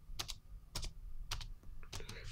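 Keys clatter on an iMac keyboard in four quick bursts of typing as a search word is entered into the App Store, close and fairly quiet, with no talking.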